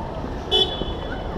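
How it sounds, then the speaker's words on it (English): A car horn gives one short toot during a drive through Winnipeg, rising briefly above a steady hum of road traffic and vehicle noise. "That's right. Honk."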